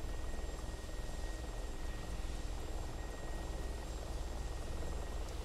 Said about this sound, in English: I will release the brake and pull up on the collective very gingerly. Lift off into a hover.